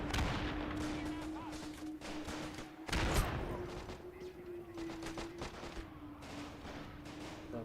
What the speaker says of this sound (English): Now here comes the grenades.